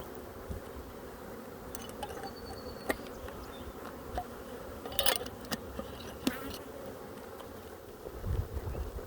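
Honey bees drone steadily around two backyard beehives during a mite check, a continuous close buzz with a few sharper passes and faint wind, and no talking.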